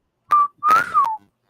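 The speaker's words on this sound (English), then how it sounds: "I couldn't whistle like I wanted to, but y'all get the point." A person whistles a short two-part tune, a brief note followed by a longer rising and falling phrase, clear and close with no talking.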